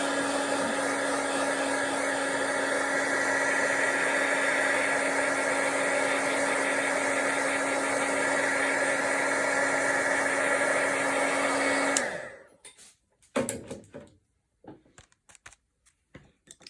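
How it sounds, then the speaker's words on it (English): A hair dryer blows with a steady whirring hum for about twelve seconds, then switches off, leaving a few faint clicks and knocks. "you can use a hair dryer or a dryer."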